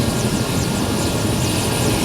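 Close, loud and continuous rotor and engine roar of a Mi-17 military helicopter in flight to a high-altitude forward post in snowy mountains, with a steady chopping thrum and no speech.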